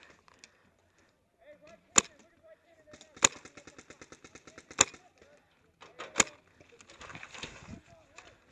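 Several sharp, loud paintball cannon shots fire a second or so apart, with rapid rattling bursts and faint voices between them.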